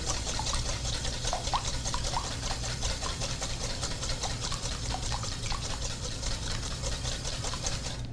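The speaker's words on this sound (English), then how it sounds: "So we're going to whisk this up. Get the eggs and the milk and the cream all mixed together nicely." Eggs, milk and cream whisked together in a bowl, a steady close rapid rhythmic scraping and clicking that runs continuously without pause, with no talking over it.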